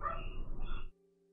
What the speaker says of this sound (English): Dogs be barking.